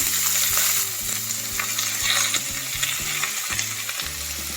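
Cumin, chopped onions and green chillies hit hot oil with a loud, dense sizzle and crackle that holds steady throughout, with light stirring scrapes underneath.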